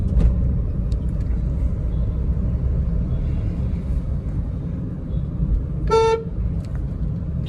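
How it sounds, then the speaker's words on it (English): A Renault Pulse petrol hatchback's aftermarket horn gives one short, loud toot over the steady rumble of the car driving on the road. "Horn is aftermarket"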